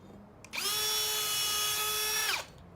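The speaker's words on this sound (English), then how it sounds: "So you just pull the drill back out and allow the swarf to come out." A power drill whines steadily for about two seconds at close range, boring into plastic decking, spinning up sharply and cutting off cleanly, with a faint hum before and after.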